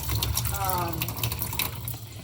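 Tap water running in a kitchen sink to rinse out a container, a steady splashing flow close by, with a person talking over it.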